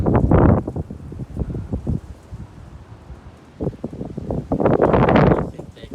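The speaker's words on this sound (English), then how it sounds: "this stupid wind. Wind out here, not the ceiling fan." Gusts of outdoor wind buffet the microphone in a few loud, rough bursts that rise and fall, and a person speaks briefly between them.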